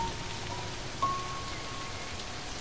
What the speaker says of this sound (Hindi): लेकिन इस तरह अचानक मूसलाधार बारिश होना अजीब है